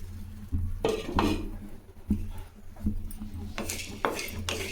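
Cumin, pepper and spices being stirred and dry-roasted in a pan for Chettinad mutton kulambu, with a spoon scraping and clinking against the metal in a few distinct strokes over a low background hum.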